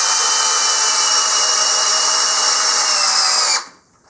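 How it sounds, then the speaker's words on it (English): A brushless power drill driving a lag bolt whines loudly at a steady high pitch for a few seconds, pitch sagging slightly under load, then stops abruptly. "back to the brushless motor and back to the first lag bolt"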